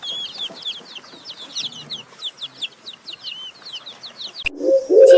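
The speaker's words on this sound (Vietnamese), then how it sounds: "Gà con." A chick cheeps in a rapid run of thin, high peeping chirps, fairly close and alone, before a short different sound cuts in at the very end.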